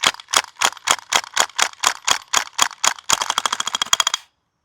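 A VFC PPSh gas blowback airsoft gun firing, a steady run of about a dozen evenly spaced sharp cracks, then a rapid full-auto burst that stops abruptly into silence, loud and close.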